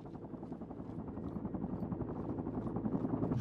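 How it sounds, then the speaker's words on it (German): A helicopter in the video game Sniper Ghost Warrior 3 gives a steady low rotor drone that grows slightly louder over a few seconds, heard on its own with no talking. "Helikopter nähert sich dem Damm."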